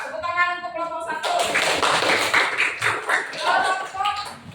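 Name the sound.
classroom clapping for group 1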